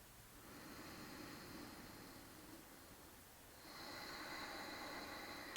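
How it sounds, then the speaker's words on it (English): Slow, deep breaths during a shoulder exercise come as a steady, soft hiss of air, with two long exhalations close to the mic and no talking. "Let's take a couple more breaths here."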